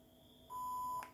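A single steady electronic beep from a Polytron Bluetooth speaker being reset, clear and fairly loud, holding for about half a second over a quiet background hum.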